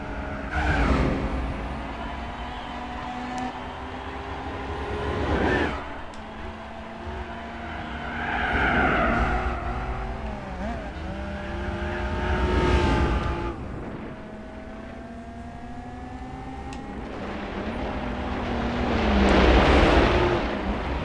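Nissan Stagea 260RS, a big wagon, racing on a dirt rally course in Gran Turismo 4, its engine revving and shifting in rising and falling waves with tire skids, loud and continuous without speech.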